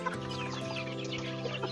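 Rhode Island chickens clucking in a backyard, a dense chorus of close, overlapping clucks and murmurs from several birds with no talk.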